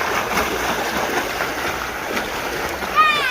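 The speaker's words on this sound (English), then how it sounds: "Stuff splashes." Someone jumps into the water at a beach, a sudden splash near the end cutting through steady wash of surf and water, with voices faintly in the background.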